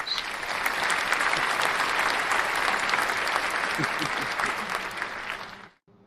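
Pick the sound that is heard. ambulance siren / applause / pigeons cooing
applause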